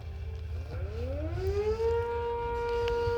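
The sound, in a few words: 10V civil defense siren sounding near the water tower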